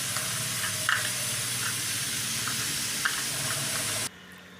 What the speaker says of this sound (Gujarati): તો આપણે 8 વિસલ થઈ ગઈ છે.